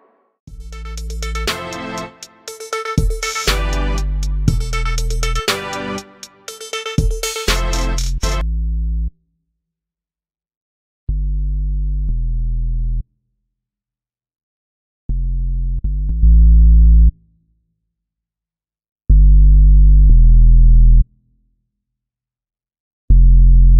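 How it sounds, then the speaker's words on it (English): Synthesized tones with a distortion effect, starting as a dense, bright run of overlapping notes, then several separate, spaced sustained distorted tones that grow louder and deeper toward the end. "A little distortion can make a sound stand out."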